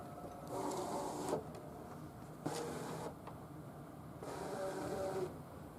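A Brother ScanNCut cutting machine loads a craft vinyl sheet on its mat, giving three separate bursts of close mechanical whirring from its feed motor, with quiet pauses between them.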